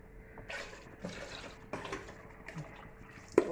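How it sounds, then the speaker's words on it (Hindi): Water is poured into an emptied plastic yogurt container in a kitchen, with several short splashing and gurgling bursts, close and moderately loud, ending in a sharper knock. "ये दही वाला डिब्बा था, मैंने इसको मैं पानी ऐड कर दिया।"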